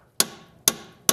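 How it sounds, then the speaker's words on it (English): Three sharp metallic hammer blows striking a lower control arm during a Toyota Camry suspension repair, evenly spaced, loud and close, each ringing briefly before the next. "hammer it"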